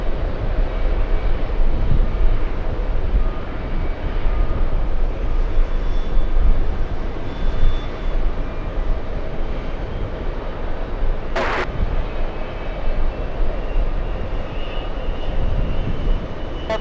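Jet airliners taxi at JFK airport, producing a steady, loud engine roar and rumble that runs continuously with little change, broken once by a brief sharp click.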